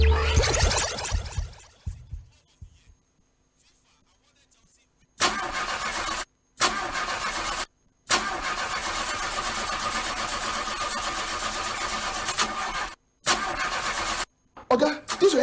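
A car engine cranks repeatedly and struggles to start, long grinding bursts of starter noise broken by short gaps, close and loud, with a voice heard near the start and sputtering at the end.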